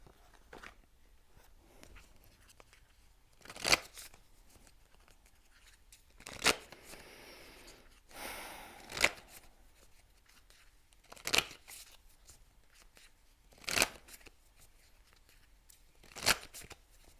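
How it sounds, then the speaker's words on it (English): Oracle cards are shuffled in soft, crisp bursts every couple of seconds, close and quiet, with a faint rustle between the riffles and no speech. "let me just pull you a quick oracle card"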